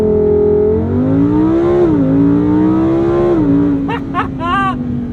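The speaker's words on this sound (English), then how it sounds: "You can activate launch control, holding my foot on the brake, hitting the throttle, letting it go." A Lamborghini Huracan Sterrato on all-terrain tires launching hard from a standstill under launch control, the engine roaring loud and close as its pitch climbs through rising gear sweeps, with brief chirps late on.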